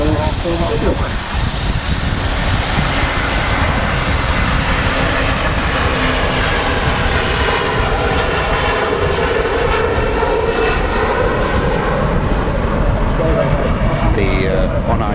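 A fixed-wing aircraft departs Manchester Airport, its jet engine roar steady and loud for the whole stretch with a slowly shifting whine, while a voice talks over it.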